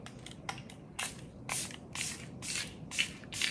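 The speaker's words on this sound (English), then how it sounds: "So let's spray this on my face right now." Short hissing bursts of face mist from a spray bottle repeat roughly every half second, close and fairly quiet, with soft rustling between them and no talking.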